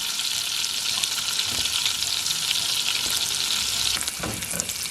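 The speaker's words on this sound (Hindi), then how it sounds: "लहसुन को हल्का सा फ्राई करना है।" Chopped garlic frying lightly in two tablespoons of butter in a pan, a steady, close sizzle with occasional stirring scrapes throughout.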